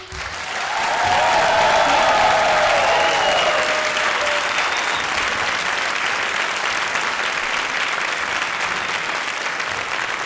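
A live audience bursts into applause to vote for a song, the clapping swelling within a second into a dense, loud roar that holds steady for the rest, with a brief cheer near the start and no talk.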